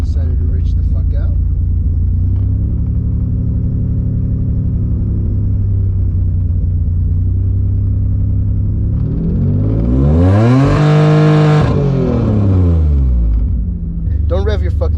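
A 3G Mitsubishi Eclipse engine runs on a cold start, idling with a deep steady rumble before a light, rising and falling rev swells near the end, close and loud.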